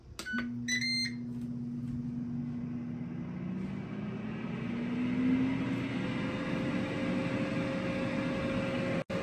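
Air fryer running with a steady whirring hum of blowing air, preceded by a few quick electronic beeps at the start.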